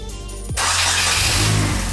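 A Mazda Miata engine fires up after a crankshaft oil seal replacement, catching abruptly and settling into a steady, close mid-pitched idle with no talking.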